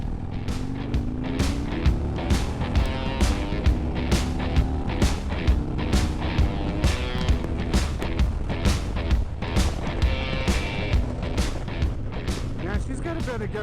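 A Harley-Davidson Road Glide motorcycle rumbles along on the road, its deep engine drone steady and close with regular thumping pulses and wind buffeting, under intermittent conversation.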